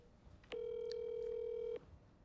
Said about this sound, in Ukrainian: Ну, я в телегі зараз наберу.